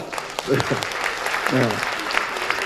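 Applause from an audience at a Thursday breakfast gathering honouring two guests, a steady patter of clapping under brief speech for a few seconds.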